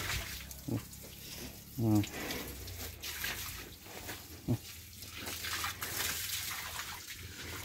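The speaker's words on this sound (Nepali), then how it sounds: "मैले यसरी पानी हालिदिन्छ" Water splashes and pours steadily over a buffalo's legs, with occasional louder sloshes, as a voice speaks intermittently over it.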